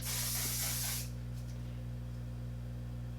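A single close burst of aerosol spray hisses loudly for about a second, then cuts off, leaving a quiet steady hum.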